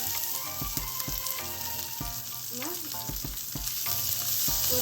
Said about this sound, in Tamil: போட்டு 2 வதக்கிட்டு